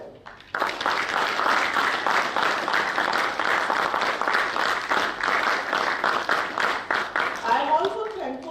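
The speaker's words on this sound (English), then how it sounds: "A big round of applause for them." An audience at a college agricultural event, AGROVON 2023, breaks into a dense, sustained round of applause that starts abruptly and continues steadily for several seconds before a voice comes in near the end.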